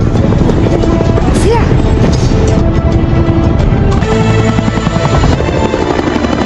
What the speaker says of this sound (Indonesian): Kemudian Evelyn pun dibawa menggunakan helikopter dengan dikawal oleh Buddy.